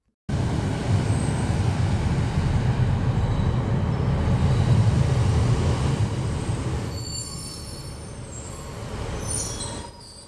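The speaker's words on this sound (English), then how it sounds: "And now let's take a look at a Northern Class 156 arriving at Sunderland Station, heading west to Hexham." A Northern Class 156 diesel train arriving at Sunderland Station, a loud rumbling roar that echoes in the station and slowly fades as it pulls in, with high wheel squeal near the end.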